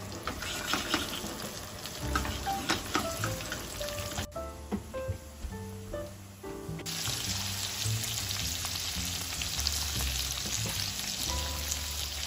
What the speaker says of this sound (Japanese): まずニンニクを炒めるところからスタート。